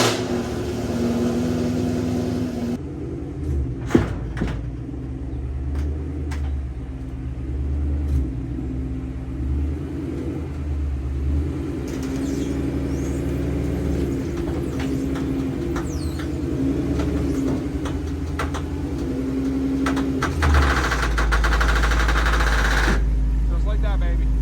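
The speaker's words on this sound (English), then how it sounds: "let's go fire up the car" A sports car starts and runs, its engine rumbling throughout with revving swells and clunks, then a deep loud roar near the end.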